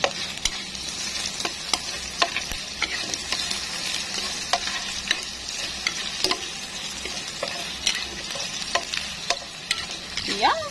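Sweet longanisa and hotdog sizzling and frying in a pan while being stirred, with steady crackle and frequent sharp scrapes and clicks of the utensil, close and alone without talk.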